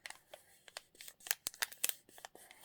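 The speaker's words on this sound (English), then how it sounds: "If I run my fingers over that, it's actually not flat" Fingertips rub and scratch across bumpy, heat-textured paper, making a close, dry, crackly rustle in quick irregular strokes.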